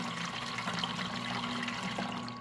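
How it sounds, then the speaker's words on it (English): Water gushes steadily from a Ninja Slushi machine into a jug during its rinse cycle, a continuous close pouring rush with an underlying motor hum. "We're going to hit that rinse button, and the water is gonna come gushing out of here pretty quickly."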